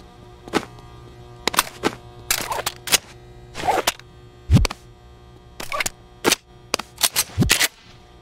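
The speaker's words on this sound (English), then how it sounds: "What is that gun?" Sharp single gunshots from a gun in the VR game Boneworks, about a dozen crisp cracks spaced irregularly and sometimes in quick pairs, loud and close with no talking.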